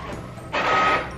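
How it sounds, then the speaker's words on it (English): A printer runs briefly while printing a sheet of printable heat transfer vinyl, a steady mechanical whir starting after a quiet moment and holding close and moderately loud. "so I can hear it printing now."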